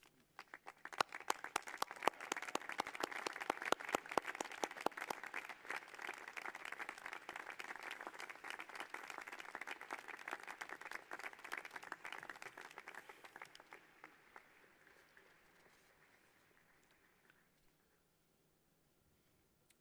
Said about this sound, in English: please stand up, turn around, and applaud with me your families and friends.